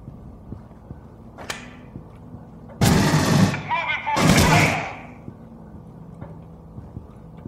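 Pulse rifle gunfire in Aliens: Colonial Marines, heard as two loud, separate bursts of rapid fire in the middle, with a faint earlier shot and quieter game ambience on either side.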